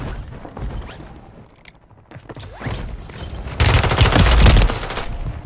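Gunfire in the battle royale shooter Warzone Rebirth: scattered creaks and faint shots give way to a loud, dense burst of automatic fire at close range, then continued rattling shots.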